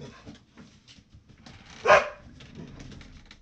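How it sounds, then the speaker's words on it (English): A dog barks once indoors. The single sharp bark stands out from quiet rustling and handling noises around it. "I know Mommy and Daddy are home, so that's why you're barking"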